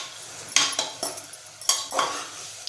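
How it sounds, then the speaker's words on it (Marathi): A spoon clinks and scrapes against a pan while spices and coriander powder are mixed in for a sprouted red cowpea usal, giving a handful of distinct metallic strokes with a soft sizzle underneath. "अर्धा चमचा धना पावडर टाकूया। छान मिक्स करून घ्यायचं आहे।"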